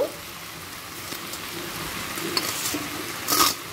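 Chow noodles being tossed and lifted in oil with two forks, a soft continuous sizzling crackle with occasional light scraping clicks, steady and close, building to a brief louder rustle near the end.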